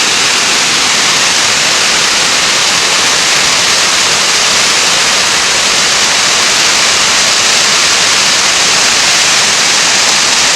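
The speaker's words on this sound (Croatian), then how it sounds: "Zapjenušana vodena stihija na poznatom pazinskom kupalištu" A dense, steady roar of rushing, churning water fills the scene continuously, loud and close, with no voices.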